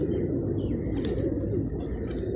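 Pigeons coo in a dense, continuous low murmur from a flock kept together, close and steady with faint chirps and wing sounds above.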